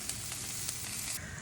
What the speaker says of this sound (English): you can hear the last batch sizzling behind me